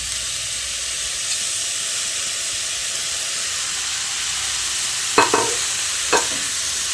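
Cabbage fries in a pan with a continuous close sizzle and hiss while being stirred. Two distinct scraping clatters of a spatula come near the end, and no one speaks.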